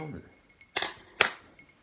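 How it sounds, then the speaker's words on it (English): Two quick clinking rattles of ice against glass while a Manhattan cocktail is stirred, close and fairly loud with silence between, following a brief murmur of voice at the start. "Okay, and stir it. A different stir, of course, not to contaminate."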